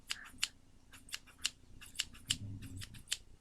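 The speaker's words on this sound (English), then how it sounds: "the last mandatory part you absolutely positively need is scissors" Scissors snip through felt and thread while a jelly cat hat is being made, giving about a dozen quick, crisp, close-up cuts in an irregular rhythm against a quiet background.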